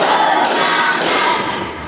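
A class of students claps in unison as part of a clap chant in a Qur'an Hadith lesson, producing a loud, crowded burst of palm slaps with two soft accents roughly half a second apart.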